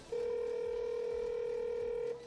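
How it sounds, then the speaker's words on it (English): A single steady electronic phone tone from the video game Ratchet and Clank, one sustained beep lasting about two seconds at moderate level before cutting off. "Computer, dial Chairman Drek."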